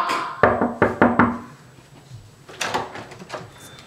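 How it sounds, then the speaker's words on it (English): Knuckles rap on a door in a quick burst of four firm knocks, followed by a quieter, scrappier run of knocks and handling noise a moment later. "Knock!"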